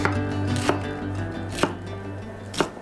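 Cabbage being cut into pieces with a knife on a cutting board for vegan tteokbokki, three sharp isolated chops spaced about a second apart over a low steady kitchen hum.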